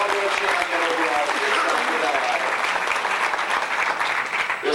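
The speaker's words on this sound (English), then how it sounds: "Give a nice round of applause." Sustained applause from a banquet audience at a racing fan club awards dinner in 1991, dense steady clapping filling the room with a few voices mixed in.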